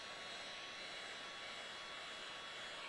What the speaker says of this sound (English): Most of the time the heat gun is pointed at a 45, a little bit up, because it's blowing all the heat up this way.